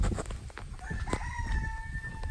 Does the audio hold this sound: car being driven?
no